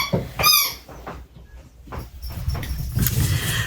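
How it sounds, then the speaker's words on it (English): A dog squeezes a squeaky toy indoors, giving a few sharp, high squeaks near the start, then muffled handling noise and low rustling. "Squeaky toys, love them and hate them at the same time."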